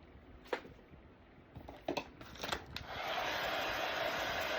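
A hair dryer blows steadily on a freshly decoupaged wooden cow sign, starting after a few soft taps and handling noises, then holding a constant close airy roar.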